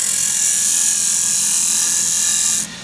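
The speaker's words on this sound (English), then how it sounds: "the skew as a scraper kind of can help really work that whole surface area." Loud, close hiss of a skew chisel used as a scraper against spinning wood on a lathe, steady and continuous for nearly three seconds before cutting off abruptly as the tool lifts away.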